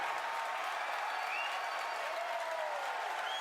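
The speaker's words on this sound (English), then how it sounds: "if you can hear me over the cheering" A roaring crowd cheers and applauds continuously at a SpaceX Falcon Heavy rocket launch, a dense wash of clapping and shouts at a steady level throughout.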